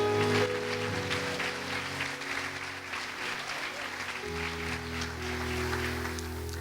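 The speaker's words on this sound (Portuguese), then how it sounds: "Dê um aplauso a Jesus." A church congregation applauds during a sermon, steady dense clapping that fills the room, with a sustained organ or keyboard chord and faint voices beneath.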